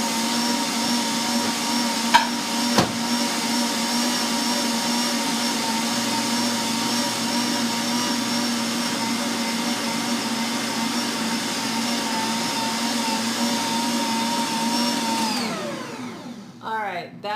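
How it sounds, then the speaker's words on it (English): A stand mixer kneads buttery crescent roll dough with a loud, steady motor whine and hum, then winds down near the end. "We're gonna let that knead for like 40 more seconds."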